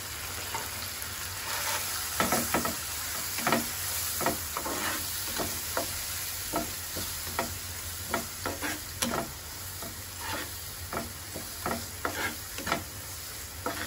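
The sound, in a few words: spice paste with turmeric and chilli sautéing for prawn malaikari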